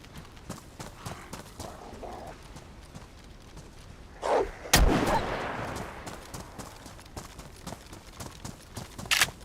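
A single loud gunshot in DayZ rings out sharply with a decaying echo, set against quieter earlier thuds and background game noise.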